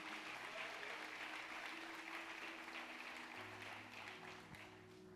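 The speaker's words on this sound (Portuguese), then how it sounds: "aplauda o Senhor em nome de Jesus" A church congregation applauds in a soft, distant wash of clapping that stays even and continuous, heard faintly over a low background hum.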